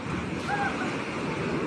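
Ocean surf and wind at Sabang Beach, a windsurfing spot: a steady roar of breaking waves with gusty wind buffeting the microphone, loud and close, with a faint voice briefly audible.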